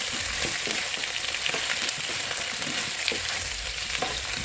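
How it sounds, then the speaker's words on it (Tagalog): Steady, crackling sizzle of chicken frying in a hot pan, with faint clinks of stirring; no talking. "Prito na, niyahalo ko na siya."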